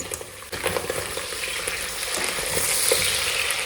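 Chunks of meat fry in a pan with onion and garlic for a mung bean mashkozhe, giving a loud, steady close sizzle with crackling and stirring scrapes throughout.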